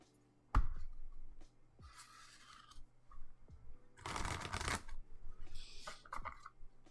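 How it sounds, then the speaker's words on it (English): Playing cards shuffled by hand during a solo tabletop role-playing game, several riffling bursts with a loud rapid flutter in the middle and softer riffles before and after, close and alone with no talking. "I'm going to shuffle the cards some more."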